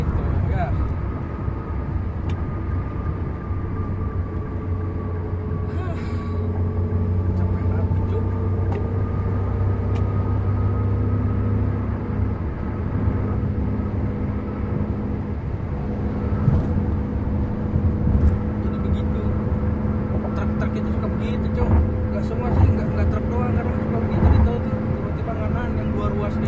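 Steady road rumble inside a car cruising the Gempol–Pasuruan toll road, a dense low drone with faint engine tones that holds evenly for the whole stretch, with occasional small bumps and no voices.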